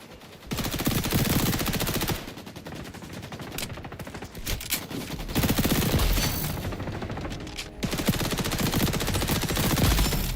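Sustained bursts of rapid automatic MP5A2 gunfire in the video game XDefiant, loud and close, with brief gaps between long strings of shots.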